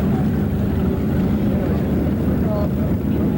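A 32-foot Skater racing powerboat in the modified division roars across open water at a 1988 offshore race, a loud, continuous engine drone with wind noise, steady throughout.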